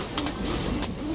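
A racing pigeon in a loft gives soft repeated coos, low and rhythmic, with a couple of brief wing or movement sounds, close by and otherwise quiet.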